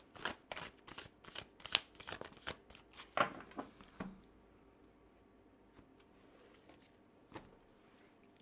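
Tarot cards are shuffled in a brisk run of riffling slaps and flicks for about four seconds. Quiet handling and a few soft taps follow.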